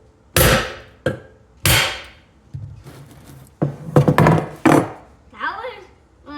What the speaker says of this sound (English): We might have to bap it with a hammer.